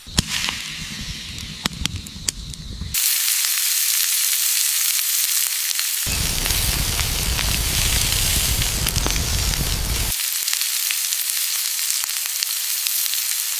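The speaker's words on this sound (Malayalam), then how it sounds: "ഇനി മസാല തേച്ച് വെച്ച ആട്ടിറച്ചി ഈ തീക്ക് മോളി വെച്ച് നമുക്ക് ചുട്ടെടുക്കാം" Marinated wild goat meat roasts over an open wood fire outdoors, giving a loud, steady crackle and sizzle that fills the scene, broken by a few sharp pops near the start.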